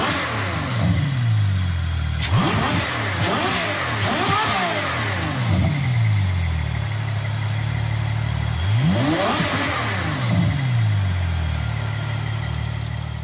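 A 2013 Ferrari LaFerrari engine revs hard in two separate bursts, each rising sharply in pitch and falling back, over a steady idle hum.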